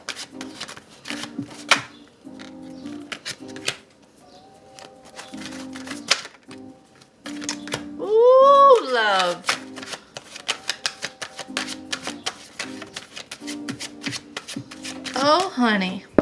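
Tarot cards shuffled by hand in quick riffling bursts at close range, broken by short pauses, with someone talking between and over the shuffles.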